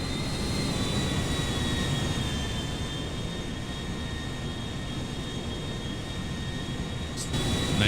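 Steady, loud jet engine roar of an Airbus A350 in a GTA 5 mod, a broad sustained rush with a high whine lasting throughout, swelling slightly near the end.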